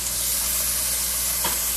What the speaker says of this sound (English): Just trying to transfer the oil around the onions so that they cook. Okay, get that nice sizzle.